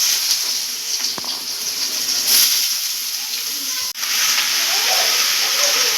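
Small pieces of bottle gourd fry lightly in a pan over a high flame, a steady bright hiss of sizzling oil with one brief knock partway through.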